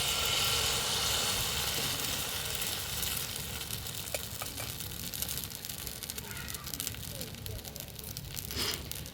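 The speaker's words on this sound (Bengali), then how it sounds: "1 হাতা ব্যাটার নিয়ে দিয়ে দেবো।" Semolina batter ladled onto a lightly oiled hot pan gives a steady, close frying sizzle and crackle that holds at an even level throughout, with no talk over it.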